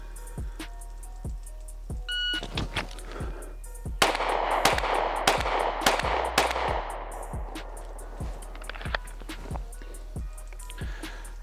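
Sharp pistol shots fired at 25 yards in a timed string, loud repeated cracks with a few close pairs and a burst in the middle, echoing over an outdoor range.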